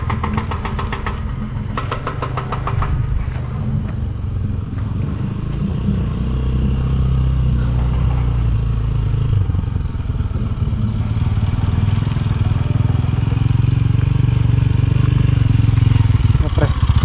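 A motorcycle pushes through a muddy road, its engine revving and labouring steadily and close throughout, with clattering and knocking bits over the running engine and some voices in the background.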